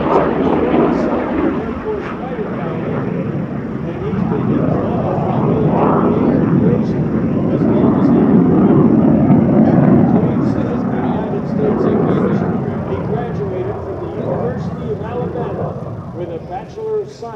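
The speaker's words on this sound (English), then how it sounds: "MiG-17." Loud, steady roar of a MiG-17F fighter jet at an air show, broadband and sustained for the whole stretch, swelling slightly in the middle and easing toward the end, with voices talking over it.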